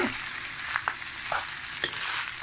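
Rice being stir-fried with prawns and vegetables, a dense hiss of frying with a few quick scrapes and taps of the spatula against the pan, close and steady for a brief moment.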